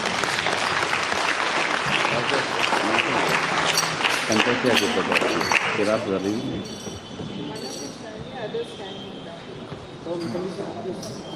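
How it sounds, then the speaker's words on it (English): Applause from a school sports day audience, loud and dense at first, then thinning into scattered claps with some voices underneath. "Audience, please give them a huge round of applause."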